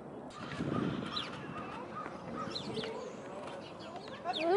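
Several chickens cluck and murmur close by outdoors in snow. A flock chatter of short clucks and squawks runs throughout and swells louder near the end.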